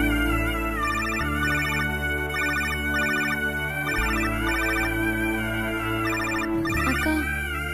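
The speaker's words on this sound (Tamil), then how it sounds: "கௌதம் தான் போன் பண்றாரு" A phone rings for an incoming call with a melodic electronic ringtone, steady and loud across the whole span, repeating its tune over a sustained low backing with no one talking.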